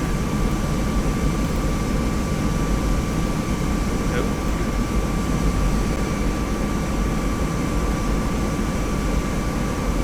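A jet engine spooling up on a Boeing 717 in the Prepar3D flight simulator, a steady, loud broadband roar and whine heard from the cabin, with no clear change in pitch.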